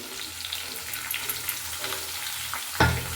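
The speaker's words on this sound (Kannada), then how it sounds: "ಇವಾಗ ಇದಕ್ಕೆ ಟೊಮೆಟೊ ಕೂಡ ಹಾಕ್ಕೊಳ್ತೀನಿ" Chopped tomatoes go into a pan of frying spices for idli sambar, starting as a soft steady sizzle with stirring, then a sudden loud hiss near the end as more is added.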